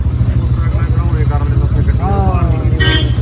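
A motorcycle engine drones steadily close by, its low rumble running throughout while people talk over it.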